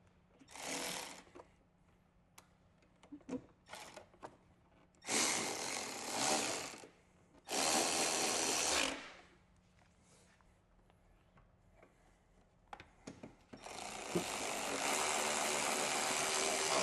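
Tightening the front bolts of a Harley gas tank with a power tool: several short buzzing bursts of fastening, separated by pauses with small clicks and handling noises, ending in a longer sustained run.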